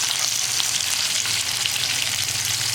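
Fish fries in a shallow pan of oil, giving a loud, close, continuous sizzle with fine crackles throughout and no talking.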